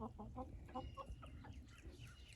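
A rooster with frostbitten wattles gives a run of soft, rhythmic clucks close by, fairly quiet, over a low steady background rumble.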